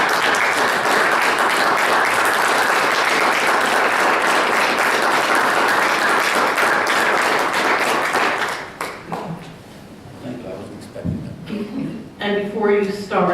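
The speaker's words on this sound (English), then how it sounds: "Would you all join me in applauding Tom?" Audience at a township committee meeting applauds in a dense, loud, sustained burst for about nine seconds, then the clapping dies away and a voice begins talking.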